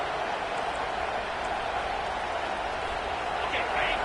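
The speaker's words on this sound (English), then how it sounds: "this crowd is fired up. Listen to this noise here." Stadium crowd roar in a college football video game, Clemson against FSU, a dense continuous wall of cheering noise holding loud and steady throughout.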